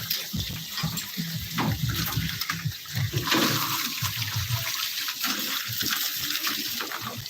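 Water pouring steadily into a household tank during heavy monsoon rain in Konkan, a continuous rushing gush filling the space close to the microphone.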